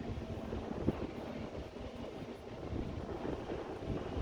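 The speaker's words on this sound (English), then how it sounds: "It's windy today." Gusty wind buffets the microphone on a boat on the Mississippi River in a continuous low rumble with no voices, rising and easing slightly.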